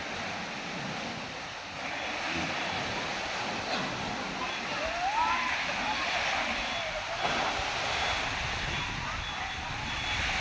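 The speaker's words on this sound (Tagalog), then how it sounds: "Malakas ng alon sa tubig" Steady rushing surf and wind noise fill the air, strong waves churning nearby in a continuous wash with no clear breaks.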